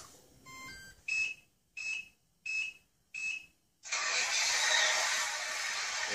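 A Tamiya Grand Hauler RC truck sound unit powers up with a short rising electronic chime, then four evenly spaced beeps, before a steady simulated diesel engine start and idle hiss takes over, fairly quiet and close with no talking.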